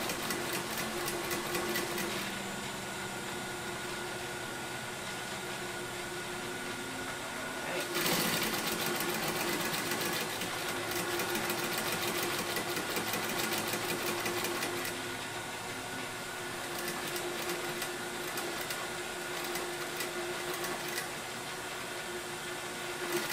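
Close, continuous whirring of a sewing machine stitching bias tape onto a seam for a Hong Kong finish, a steady motor drone that briefly pauses and resumes.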